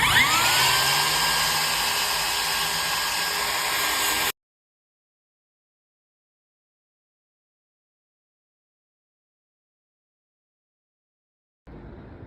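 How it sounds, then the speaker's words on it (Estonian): A loud, close plunge saw whine as the blade plunges into the material, winding down for about four seconds, followed by long silence and a brief faint noise at the end. "see siis tähendab uputussaagimist, et ma uputan materjali sisse"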